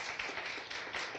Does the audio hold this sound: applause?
yes